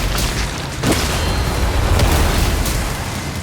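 Rocket launcher blasts in Doom: The Dark Ages, a dense, loud wash of booming explosions with one sharp burst near the start and a continuous rumbling roar after it.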